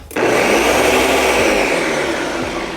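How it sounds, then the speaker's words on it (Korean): A Ninja all-in-one food processor blender switches on abruptly and runs at high speed, a loud, steady whirring roar that stays close and continuous. "이 아이의 이름이 닌자 올인원 푸드 프로세서 초고속 블렌더예요"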